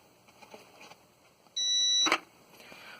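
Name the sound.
low battery voltage alarm beeping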